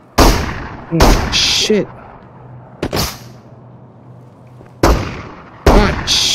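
Loud, close gunshots in the VR shooter Into the Radius, five or so sharp cracks spaced irregularly with echoing tails, and a person briefly talking between shots.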